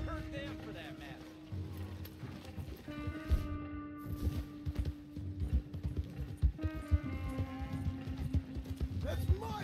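Horse hooves clip-clopping in the video game Red Dead Redemption 2, a rapid rhythmic series of close, sharp hoof strikes under continuous game music and tones.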